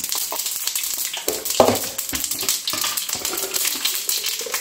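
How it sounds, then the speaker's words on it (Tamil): Mustard seeds, cumin and fenugreek crackle and sizzle in hot oil for tempering, with scattered sharp pops and the clink of a spoon stirring in the pan, up close and loud, no voices. "வந்து தாளிப்பு போட்டுடலாம். கடுகு, கொஞ்சமாக சீரகம்,"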